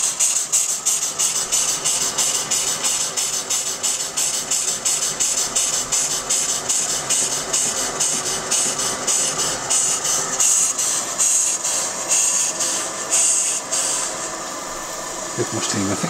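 A small Stuart model steam beam engine chuffs with a fast, even rhythm of hissing puffs, running steadily before easing off near the end.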